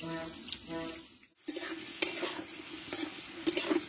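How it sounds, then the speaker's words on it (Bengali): Potatoes fry in oil in a pan for Bengali katla fish curry, a close, steady sizzle broken by a short pause and several sharp spatula clanks against the pan. "বন্ধুরা এদিকে আলুটা কষা হতে থাক"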